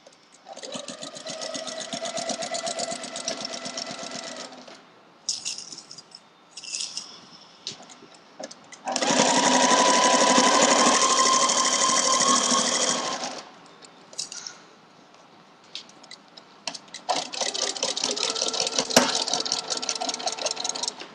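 Sewing machine stitching a pressed-open quilt seam, running in three bursts of steady whirring: a long run, a louder sustained stretch, then a final run, separated by quieter pauses with brief clicks.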